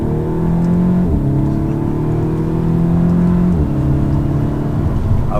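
A 2016 Audi S3 Prestige accelerates hard in second gear, its engine note climbing loud and close in steady pitch sweeps, with a brief shift-like dip partway through.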